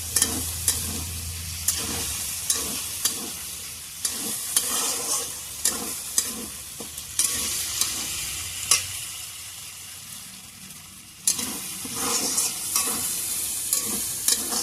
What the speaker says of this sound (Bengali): পেঁয়াজ আর রসুন মনে গোল্ডেন করে ভেজে নিচ্ছি।